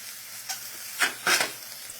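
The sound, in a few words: chicken sizzling in a hot skillet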